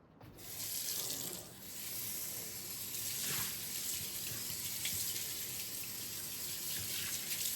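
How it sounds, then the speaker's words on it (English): Tap water runs steadily into a sink while something is rinsed under the stream, a constant hissing splash with slight shifts as the flow is interrupted, no voices. "Now we're just going to rinse this with water."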